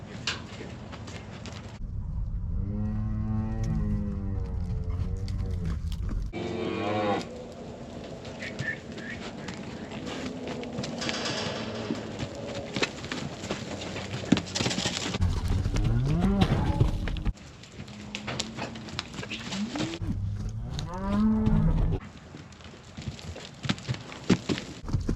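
A mother cow and other cattle moo loudly and repeatedly at close range, long drawn-out calls rising and falling, with clattering hoof and pen noise between them.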